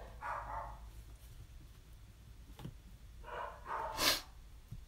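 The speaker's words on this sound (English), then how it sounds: "my dogs are going crazy." Dogs bark in a few short bursts indoors, moderately distant, with a louder sharp bark near the end over a low background hum.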